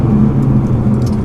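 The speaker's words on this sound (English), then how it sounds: "So if I'm just cruising right now, not on the gas or brake, hopefully you can hear the downshifts" A tuned 600 whp 2017-era R35 Nissan GT-R Premium cruising off the throttle and brake, its drivetrain giving a steady, loud low rumble and whir from inside the cabin, with no clear gear changes standing out.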